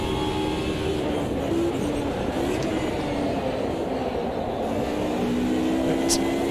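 Mercedes and Ginetta race cars in the sim racing game Automobilista 2 at Silverstone, their engines droning steadily with a rising and falling whine held at a constant level throughout.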